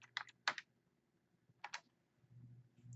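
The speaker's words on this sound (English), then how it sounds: "So we'll type this in here." Short bursts of computer keyboard typing, a few quick clustered keystrokes separated by pauses, close and fairly quiet over a low background hum.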